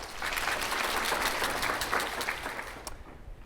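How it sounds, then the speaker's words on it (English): A short burst of applause from a small crowd, steady clapping that tapers off at the end. "So big round of applause for that."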